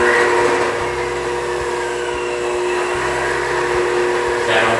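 Blendtec blender running on low speed, a steady loud whirring drone with a rhythmic low motor pulse throughout, no voice.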